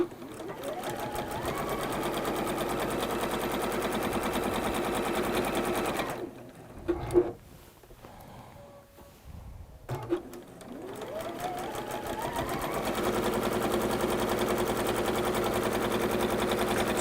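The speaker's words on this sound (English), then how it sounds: "so for my outer section, I'm going to sew this down 3 sides, 1/4 inch." A sewing machine runs steadily while stitching a drawstring bag, a close, continuous mechanical whir that pauses for a few seconds with small clicks and handling noises before starting up again and running on.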